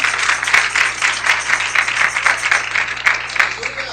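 A church congregation claps in praise to the Lord, a loud, dense and continuous applause with a gently pulsing rhythm throughout.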